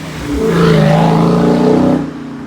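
A car swells past nearby on Colorado Boulevard in Denver, heard from the sidewalk, its engine rumble rising and fading over a couple of seconds against a steady background of traffic noise.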